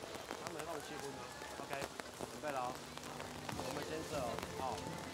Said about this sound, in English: The wind not letting up, the rain not letting up.